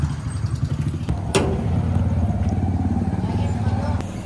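Motorbikes ride along a village road at dusk past the temple and an open shop, their engines a steady mid-pitched drone that stays close throughout, with a sharp clank and clatter about a third of the way in.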